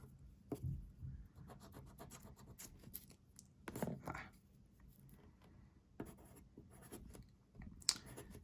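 A pen scratches across paper while math work is written out by hand, giving quiet, close, irregular strokes and scribbles with short pauses between bursts.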